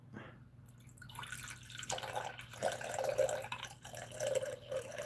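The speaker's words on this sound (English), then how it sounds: "So we're gonna go ahead and get the water in there, about a cup's worth, and about 4 or 6 ounces." Water poured from a cup into bentonite clay, a close trickling and splashing that builds into a steady liquid stream, with no talk.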